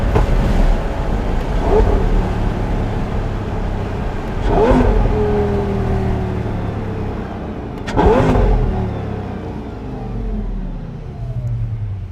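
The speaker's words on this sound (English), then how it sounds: "already hear it popping and banging a little bit" A Lamborghini Gallardo Superleggera engine revs hard in repeated surges, popping and banging slightly, each rising roar fading back down, with steady road noise between the bursts.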